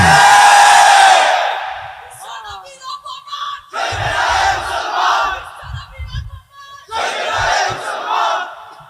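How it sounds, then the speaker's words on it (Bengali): A large crowd at a religious sermon gathering in Dhaka chants a protest slogan in loud unison, in three forceful bursts separated by brief pauses and a lone voice leading between them. "এই তো স্লোগান দিলেন বিশ্ব নবীর অবমান সইবে না রে মুসলমান"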